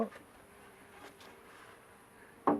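A steady low buzz of bees being fed drones throughout, with a couple of brief sharper bursts near the start and end.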